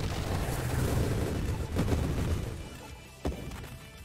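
Minigun grenades bursting in the space shooter Nova Drift, a dense rumbling barrage of low booms with a couple of sharper blasts standing out near the end.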